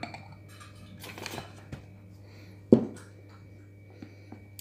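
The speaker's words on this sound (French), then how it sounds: "Et je mélange à nouveau." A utensil mixing a thick texture paste thickened with cornstarch in a bowl: soft scraping and stirring, with one sharp clink against the bowl, over a steady low hum.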